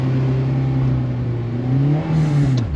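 A Honda S2000 with a manual gearbox accelerates as the driver gives it gas, its engine a loud, close, steady drone that rises slightly in pitch and briefly dips near the end.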